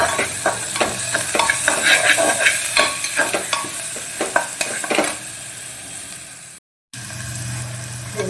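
Garlic paste stirred through a frying pan while cooking goat curry: steady sizzling under repeated scraping, knocking spoon strokes, close and loud, with a brief gap of silence near the end before the frying resumes.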